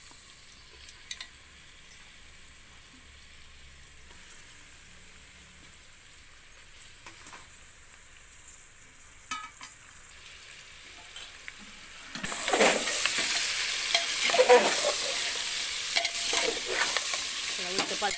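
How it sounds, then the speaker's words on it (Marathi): Chicken pieces going into a pressure cooker and being stirred for a village-style desi chicken biryani; quiet scraping at first, then from about twelve seconds a loud, steady frying sizzle with stirring scrapes, no talking. "चला, आता हे कुकरमध्ये चिकन टाकते बघा."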